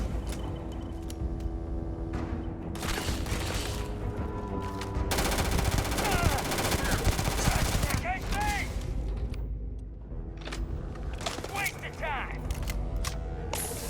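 Gunfire in the video game Starfield crackles in rapid bursts, loud and dense, with a few louder blasts, mixed with other combat noise and a voice talking.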